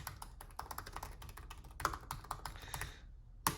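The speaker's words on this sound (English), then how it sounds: "let's start typing in some numbers" Numbers are typed into an online compound interest calculator on a computer keyboard, a quick, close run of clicky keystrokes with a brief pause before one last tap.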